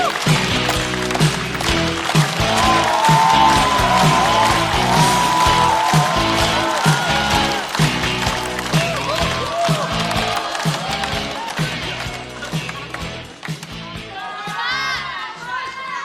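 A stand-up comedy show audience erupts in loud cheering, shouts and clapping for a comedian's entrance, sustained for many seconds with a bright music-like tonal bed underneath, easing slightly toward the end.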